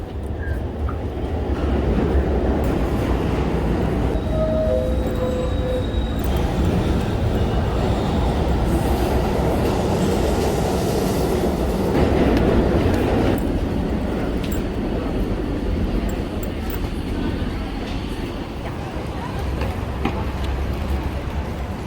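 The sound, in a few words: subway train riding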